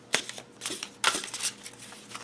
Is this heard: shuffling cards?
yes